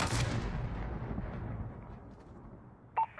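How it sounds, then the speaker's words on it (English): A missile launch in the Modern Warfare video game's realism campaign: one heavy, booming blast that rolls off into a long fading rumble, followed by a short electronic beep near the end, with no voices. "Missile out. Firing."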